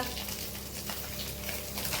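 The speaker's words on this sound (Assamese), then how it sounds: "আজি মোৰ শাহুমাই মাছ ভাজিছে চক" Steady, dense sizzling of fish frying in hot oil, close by and continuous with a crackling hiss throughout.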